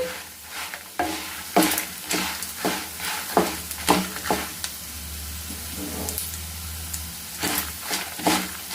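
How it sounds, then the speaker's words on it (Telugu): Curry leaves fry in a hot pan for curry leaf powder, giving a steady sizzle broken by repeated scraping strokes of a spoon stirring them, close and with no talk. "మాడిపోకుండా జాగ్రత్తగా వేపుకోవాలి. దోరగా మంచి అరమ వచ్చేంత వరకు కూడా వేపుకోండి."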